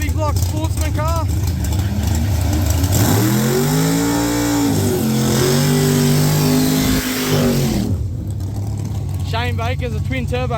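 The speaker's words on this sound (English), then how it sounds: "Turbo street car versus big block sportsman car." A turbo street car and a big block sportsman car launch down a drag strip, engines roaring loud and close with rising and falling revs for several seconds, under a track announcer's voice.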